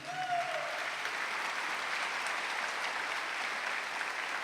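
A church congregation applauds together in steady, dense clapping that holds evenly from start to finish, with a brief voice heard faintly at the very beginning.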